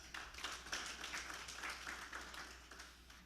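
Audience applause at a UN development conference on data analytics and policy support, a steady patter of many hands clapping at moderate distance, sustained evenly for a few seconds without talk.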